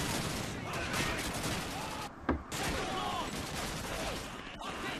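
Dense gunfire rattles through a town battle in Call of Duty 2, with rapid machine-gun bursts and overlapping shots, near and loud with only a brief lull.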